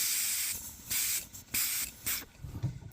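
Air blown through the float valve of a Kawasaki KFX400 carburetor during a rebuild, making several short, close breathy hisses that start and stop as the float is pushed up to close the valve.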